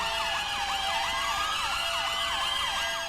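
A GTA V ambulance siren wails loudly and continuously in a rapid rising-and-falling pattern, layered over a low engine hum, close by with no speech.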